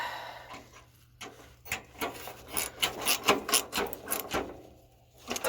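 Short ratcheting clicks and metallic rubbing come from a 12mm socket wrench tightening burner bolts on a Weber Genesis Silver B gas grill, in close, uneven bursts with quiet gaps between them and no talking.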